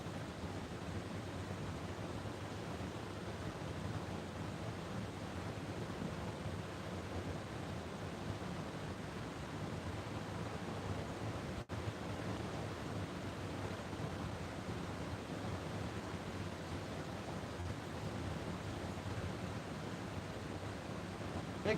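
Fast river water swirls in a whirlpool current during flathead catfish bait fishing, a steady broad rushing wash that holds even and unbroken throughout, with no talk.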